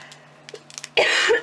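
A few faint clicks and small noises, then a single short, harsh cough bursts out loudly near the end.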